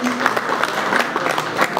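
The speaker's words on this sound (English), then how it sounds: "Can we have a round of applause for this historic moment?" An audience applauds a historic moment at a formal banking ceremony for NMB Bank in Nepal, producing a dense, steady burst of clapping that fills the short moment at close range.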